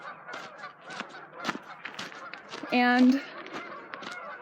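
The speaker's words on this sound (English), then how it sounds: "It is like a symphony of geese out here." A flock of geese honk outdoors in a busy, overlapping chorus, with one loud, sustained close honk standing out, while a person speaks briefly over the calls.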